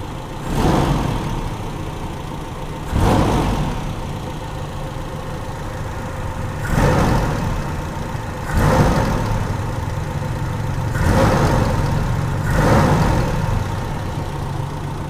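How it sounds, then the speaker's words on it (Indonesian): A Toyota Kijang engine revs in repeated bursts, about six of them, each rising quickly from a steady idle and falling back, close and fairly loud with no talk. "RPM mesin lebih cepat naik, tetapi ketika saya kickdown tetap dia akan mundur."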